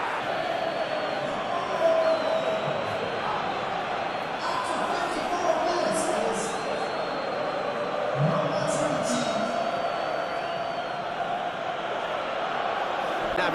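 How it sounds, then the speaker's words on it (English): A packed stadium crowd in the football game PES 21 roars and chants steadily throughout an Arsenal vs Chelsea cup match, a dense continuous wall of noise with whistles rising above it and a commentator talking over the top. "The crowd are calling for this to be put to bed."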